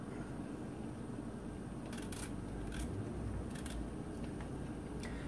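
Knife cutting the stem off an artichoke in a kitchen, a few short crisp cuts over a steady background hiss, no talk.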